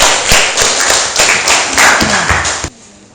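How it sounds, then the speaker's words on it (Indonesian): Students in an Indonesian school classroom clap together during a lesson, a loud burst of overlapping claps with sharp taps that stops abruptly near the end, leaving quiet room tone. "Oke, beri tepuk tangan tuh ya."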